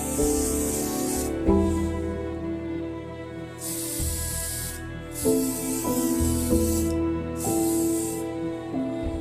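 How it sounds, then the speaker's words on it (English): Release agent is sprayed onto a sanded surface in several hissing bursts, each a second or two long, with short gaps between them. The bursts play over steady background music. "After sanding, spray a layer of release agent on the surface."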